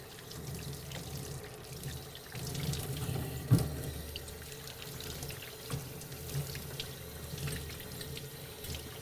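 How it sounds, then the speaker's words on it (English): Tap water runs into a sink over a motorcycle engine cylinder, a soft steady splashing stream with occasional louder spatters as soap is rinsed off the part. "just rinse off all your soap."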